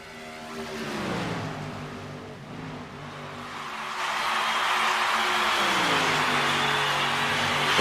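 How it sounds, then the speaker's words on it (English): Several NASCAR trucks race at Kansas in the iRacing sim, their engines droning steadily with gear changes and rising pitch as the pack runs together, loud and continuous with no talk. "These trucks riding around the bottom right now."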